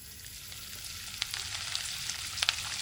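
Bread frying in hot oil in a frying pan, a steady close sizzle and crackle with a few sharper pops, no talking.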